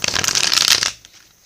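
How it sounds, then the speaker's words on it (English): A tarot deck is shuffled in a quick burst of papery riffling and flicking that runs for almost a second, then stops abruptly, close and fairly loud. "I'm going to go ahead and start shuffling my tarot deck for you."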